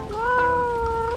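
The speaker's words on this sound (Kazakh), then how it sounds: "Мысық." A single domestic cat's meow, one drawn-out, clear and close call lasting about a second, heard alone with no other sounds.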